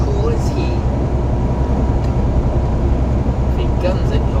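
A steady, loud vehicle engine rumbles close by, holding a constant low drone with some traffic noise around it.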